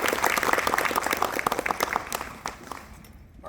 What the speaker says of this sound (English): So a round of applause for everybody here.